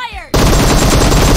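Sustained loud automatic gunfire from a PUBG Mobile deathmatch, a continuous dense rattle that starts abruptly after a brief voice and fills the rest of the moment.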